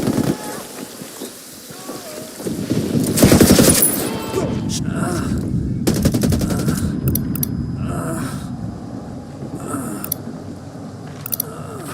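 Automatic gunfire rattles in rapid bursts during a Ghost Recon Wildlands firefight, loud and close, with scattered single shots and mechanical clatter over a rain-like background wash.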